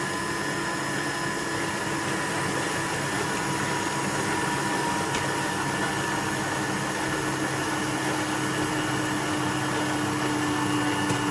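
A food mixer runs at first speed, kneading Moroccan bread dough in a bowl with flour, giving a steady, continuous motor hum with whirring tones that holds evenly throughout, with no talk.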